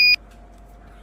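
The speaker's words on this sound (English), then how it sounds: "The transistor turns on the buzzer to alert." A single short, shrill electronic beep from a transistor-driven buzzer alarm circuit sounds at the start, then cuts off into a quiet background hum.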